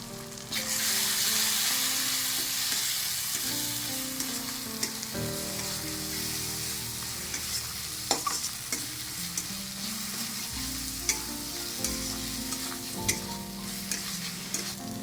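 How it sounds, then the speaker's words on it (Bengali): Ginger-garlic paste, chilli paste, coriander, cumin and Kashmiri red chilli powder frying in a pan, a steady loud sizzle with a spatula stirring and scraping throughout, occasional sharp clinks against the metal, no voices. "এক চামচ কাশ্মীরি রেড চিলি পাউডার দিয়ে ভালো করে সব কিছু মিশিয়ে নেবো"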